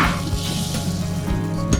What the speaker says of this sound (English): Hear them sizzling.